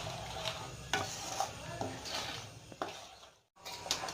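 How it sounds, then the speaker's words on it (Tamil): Paneer masala gravy bubbles and sizzles in a pan while a spoon stirs and scrapes it repeatedly, a close continuous simmer broken by a brief pause near the end. "இது நல்லா கொதித்து வரட்டும்."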